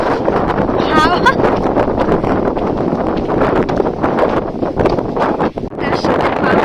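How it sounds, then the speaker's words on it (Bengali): Strong wind buffets the microphone beside Burudi lake among hills in light rain, a loud steady roar with gusts throughout, while a person talks over it. "আর তার সাথে প্রচুর হাওয়া দিচ্ছে।"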